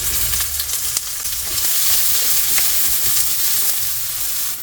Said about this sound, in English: I'm going to caramelize the onion a bit, so I'm adding this much of sugar.